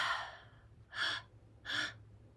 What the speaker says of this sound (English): So we're going to inhale through the belly, inhale heart, and exhale all through the mouth.